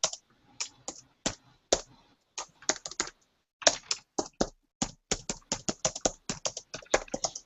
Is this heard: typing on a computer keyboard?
yes